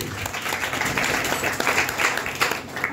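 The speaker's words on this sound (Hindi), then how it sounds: "ताली बजाएंगे एक बार यीशु के" A youth church meeting's group claps together for Jesus, a thick burst of many hands that swells and flickers at a moderate level across the whole moment.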